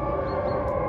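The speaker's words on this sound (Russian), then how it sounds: "такой тревожный, неприятный звук сирены" A loud, steady wail of a civil defense siren during a drill, one sustained tone filling the whole moment with no voices.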